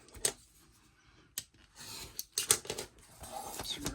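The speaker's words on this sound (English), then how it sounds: "I'm just going to cut a tiny bit off." Scissors snip through paper for a small handmade art book, a few sharp separate cuts with quiet rustling and handling between them, close and fairly soft.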